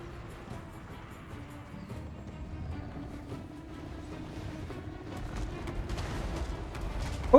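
Artillery fire in a siege battle in Total War: Warhammer 2, a rumbling battlefield din of distant booms and scattered shots that grows louder toward the end, with a voice talking over it.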